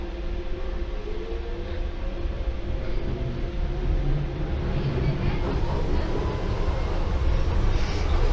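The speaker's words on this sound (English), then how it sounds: "Oh, is that train going to go into us?" A train rumbling through Limehouse station in London, heard from aboard another train, a steady low roar with squealing wheel tones that swells slightly toward the end, with brief talk over it.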